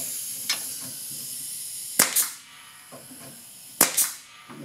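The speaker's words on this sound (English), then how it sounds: "I'm just going to shoot some wire nails in either end" A nail gun shoots wire nails into a wooden reloading bench, two sharp close bangs each followed by a short hiss of air, with faint clicks and workshop hum between them.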